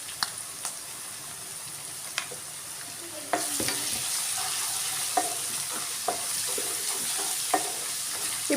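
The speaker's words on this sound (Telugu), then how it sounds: "పచ్చివాసన పోయే వరకు వేయించుకోవాలి." Ginger garlic paste and turmeric fry and sizzle steadily in a pan for egg masala curry. A spoon scrapes and taps now and then, and the sizzle grows louder partway through.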